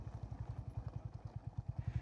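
A motorcycle chugs at low idle as it is parked in the shade at a resort near Pune, a rapid, even low-pitched putter that grows slightly louder toward the end in a brief close-up.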